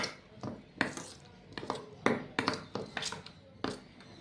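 A spoon scrapes and clinks against a bowl while raita made of sour yogurt, black salt and sugar is stirred, giving about a dozen irregular sharp taps and clatters at close range.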